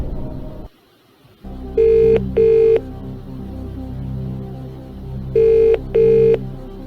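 A telephone rings out twice in two paired bursts, then twice again after a gap, as a friend is called on Who Wants to Be a Millionaire, over a steady low studio music bed.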